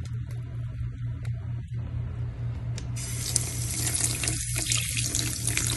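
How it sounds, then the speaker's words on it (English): Water from a tap runs steadily over a Chanel bag being tested for waterproofing after treatment with Carbon Pro, a continuous splashing hiss that grows brighter and fuller partway through as the flow hits the bag, with no voices. "let's run it under the water to see if it's actually waterproof"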